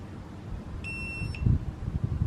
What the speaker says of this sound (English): long press the setup button until you hear a beep